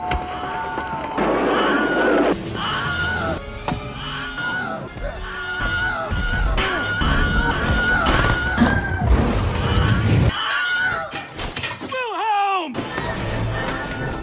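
Iconic stock movie scream sound effects, heard as several sharp, loud human screams and yells in a dense, busy mix of crashes and effects, one after another with little pause.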